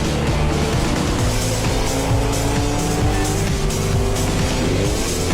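A car driving fast in an action movie scene, a loud, continuous engine roar with rising revs and tire squeal, close and dense, with no clear talking.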